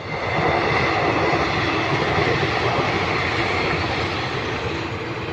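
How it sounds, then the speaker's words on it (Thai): A train passes nearby outdoors, a loud, steady rumbling roar with no breaks that fades only slightly toward the end. "มีรถไฟแถมให้ดูอีก"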